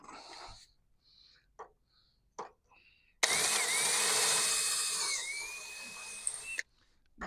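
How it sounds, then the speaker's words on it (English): A power drill drilling into a ladder whirs steadily for about three seconds, its pitch dipping as it bites, between quiet handling clicks and brief pauses. "May have to re-drill this one."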